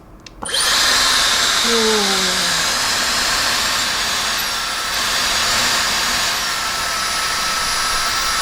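A Dyson Supersonic hair dryer switches on abruptly and runs with a loud, steady high-pitched whine and airy rush, holding a constant tone for several seconds.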